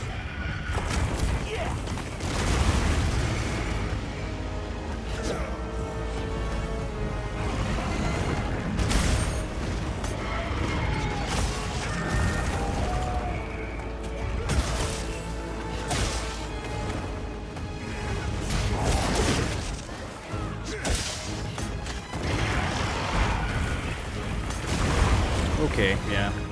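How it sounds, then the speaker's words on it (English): An explosion in the video game Monster Hunter Wilds, with dense booming crashes and heavy rumbling game audio that stays loud and continuous throughout. "saw that explosion coming"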